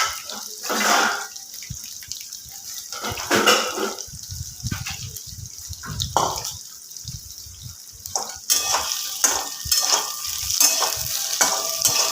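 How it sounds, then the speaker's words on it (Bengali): Potato pieces fry in hot oil for a yogurt soybean curry, browning to a reddish color. A steady, close hiss of sizzling runs throughout, broken by repeated scraping and stirring bursts, with no talking. "আলুগুলো আমি একটুখানি ভাজা ভাজা করে নেবো একটু লাল করে নেবো"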